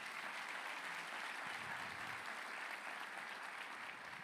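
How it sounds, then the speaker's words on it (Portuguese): Church congregation applauding, a continuous even patter of many hands clapping at once, heard quietly and at a distance. "Vamos aplaudir o Senhor mais uma vez."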